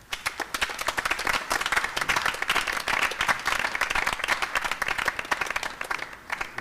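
Hall audience at a Lagos choral concert of the oratorio Esther claps loudly and continuously to welcome a guest of honor, a dense, crisp patter of many hands with no talk over it.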